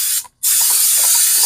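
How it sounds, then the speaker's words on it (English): Cooking spray hisses onto a heated pan in two short bursts separated by a brief pause, loud and close with no voices. "I'm going to spray the pan just slightly"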